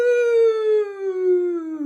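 A single long, wavering howl from a human voice imitating a ghost, loud and close, slowly sliding downward in pitch.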